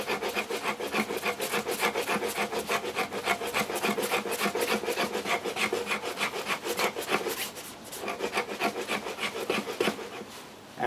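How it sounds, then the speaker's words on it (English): A knife spine held at a right angle is rubbed up and down along a wooden stick to raise fine shavings for a feather stick. The close, steady rasping scrape repeats in a fast, even rhythm, with a brief slowdown near the end. "put your knife at 90 degrees and basically just rub it up and down your knife like so."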